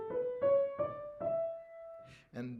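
Four sustained notes drawn from the Brahms Fourth Symphony melody rise as a short scale, played alone and clearly, then fade before a brief noisy sound at the end.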